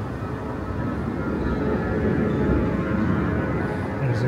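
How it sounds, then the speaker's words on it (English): An airplane passes somewhere overhead as a broad, steady low rumble that swells slightly and stays fairly loud throughout, heard outdoors with no talking. "There's a plane there somewhere."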